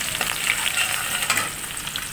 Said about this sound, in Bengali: প্যানে তেল দিয়ে দিলাম, একটু পেঁয়াজ কুচি ছেড়ে দিলাম, হালকা ভাজা করব পেঁয়াজ কুচিগুলো